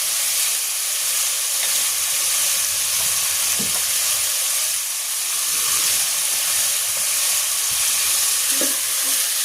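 Mung bean dish being stirred in a cooking pot, a steady sizzling, frying hiss running throughout with occasional scraping clinks of the spoon against the pot, close and continuous without any talking.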